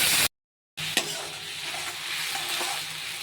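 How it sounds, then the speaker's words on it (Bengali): Ground ginger-cumin paste and a bay leaf frying in hot oil in a kadai, a dense, even sizzle that cuts out briefly near the start, then runs on with a single sharp stir or knock. "কড়ার তেল গরম হয়ে গেছে, এর মধ্যে আমি একটা তেজপাতা দিয়ে দিয়েছি আর বেটে রাখা আদা জিরে দিয়ে দিয়েছি।"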